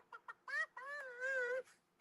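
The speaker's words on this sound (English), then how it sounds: "Crazy old birds, I'll tell you what. And they're chickens." Chickens give a few short clucks and then a longer, wavering squawk, close and fairly clear, with no talking.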